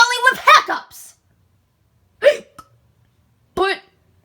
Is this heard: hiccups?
yes